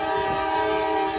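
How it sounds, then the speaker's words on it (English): A train runs on the newly repaired North Track at East Palestine after a derailment, giving a loud, steady rumble with a sustained tonal horn-like drone on a wet day, close by and with no talking. "First train that they've operated on the North Track since the accident."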